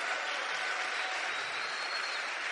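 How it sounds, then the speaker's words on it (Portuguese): Steady, dense applause from a convention audience fills the whole stretch at an even loudness, with no voices standing out above the clapping. "Ajudem com um forte aplauso para os que não foram a essa convenção."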